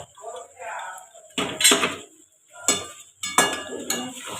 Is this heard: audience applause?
no